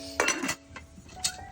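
A metal cooking pot lid clinks as it is lifted to check the pot: a bright clatter of a few quick metallic clinks, then a single sharper clink a moment later, close by and without speech.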